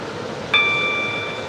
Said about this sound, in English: Obviously, the onboard train announcement.